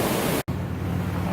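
The French Broad River running high near Hot Springs, a loud, steady broadband roar of rushing water filling the clip, broken by one brief dropout.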